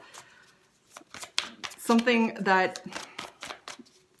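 Rapid riffling and soft slaps of tarot cards being shuffled, in quick bursts, close up, with a person speaking over them.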